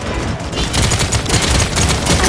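Dense, continuous enemy gunfire in the video game Paladins, a loud sustained barrage of rapid shots rolling on for the whole stretch without pause, with no talk over it.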